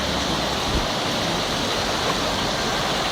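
A loud, steady roar of flash flood water, about four feet high, in Latawan, Basilan, fills the air without pause, broad and unbroken like a torrent surging close by.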